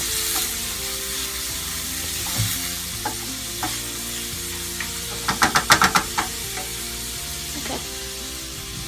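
Meat cutlets sizzle steadily in a hot frying pan, a continuous close hiss broken by a quick burst of scraping clicks from a utensil, with a single brief spoken word.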